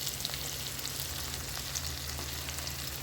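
Tomatoes frying with onions in oil in a chicken dish, giving a steady, close, loud sizzle that holds evenly throughout with no voices.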